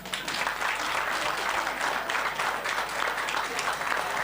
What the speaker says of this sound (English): give your parents a big thank you clap